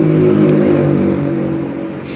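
A Honda Vario 110 scooter engine idles with a rattling shudder, a loud steady droning hum close by that holds evenly before easing slightly at the end.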